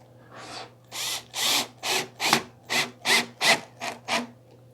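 A screw is driven into wood without a pre-drilled hole while assembling a Harbor Freight workbench, heard as about nine close, even bursts of grinding, squeaking effort with brief pauses between them and no talk.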